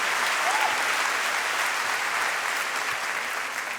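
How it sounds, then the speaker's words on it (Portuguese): A church congregation gives a round of applause during a sermon, a dense, even wash of clapping from a large crowd that holds steady and fades slightly toward the end. "Pode dar uma salva de palmas"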